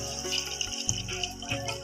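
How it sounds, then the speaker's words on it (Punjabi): Water poured from a vessel into a cooking pot to make broth for turnip curry in a village kitchen: a quiet, close splashing trickle with a brief pause midway. "ਅਸੀਂ ਨਾ ਇਹਦੇ ਵਿੱਚ ਥੋੜਾ ਜਿਹਾ ਪਾਣੀ ਪਾ ਲੈਣਾ"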